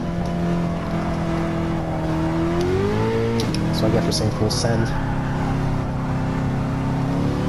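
A 2017 Nissan GT-R accelerates hard on a track lap, its engine a loud, continuous drone whose pitch climbs and shifts through the run, close and steady beneath a driver talking.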